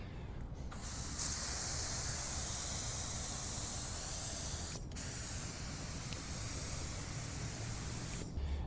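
Rust-Oleum spray paint hisses steadily as a light first coat goes onto a Fiat 850 Spyder, a continuous close spray with only a couple of brief breaks.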